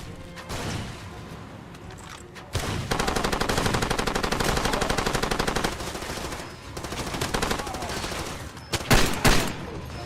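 Shotgun and automatic gunfire in the Far Cry 2 video game, loud rapid volleys of blasts with a dense rattling burst in the middle and heavy single shots near the end.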